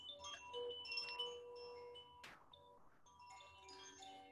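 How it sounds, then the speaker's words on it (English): A chime rings out at an online poetry gathering with clear, sustained metallic tones that overlap and decay, followed by a soft swell and a second set of ringing notes, fairly faint overall. "Do a little bit of pre-chiming for us."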